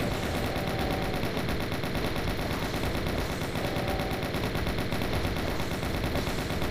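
Doom 1 weapons firing nonstop at a Cyberdemon in the video game, a dense rapid chaingun-like rattle of gunfire with heavy booming thuds layered over a constant rumble, loud and continuous.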